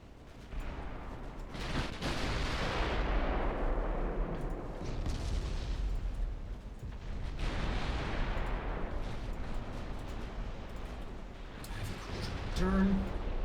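Naval guns fire in the Ultimate Admiral Dreadnoughts warship game, heavy booming blasts and rumbling explosions that roll on through the clip amid battle noise, with a voice speaking over the action.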